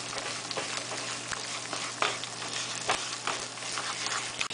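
Bean soup with sausage being stirred in a pot after red paprika goes in, a spoon scraping and clinking now and then over a steady low simmering hiss, fairly quiet and close, no voices.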